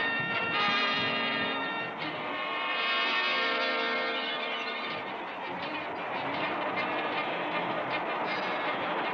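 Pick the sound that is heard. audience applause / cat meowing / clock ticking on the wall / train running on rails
train running on rails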